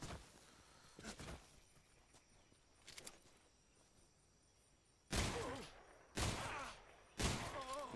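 Suppressed gunshots landing headshots in the Metal Gear Solid Delta stealth game, three sharp close bursts about a second apart after a quiet stretch with faint earlier shots and ambient insect noise.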